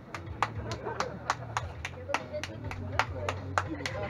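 Sharp claps repeat at a steady, fairly quick rhythm over a low hum and background voices, heard in a zombies versus pranksters game.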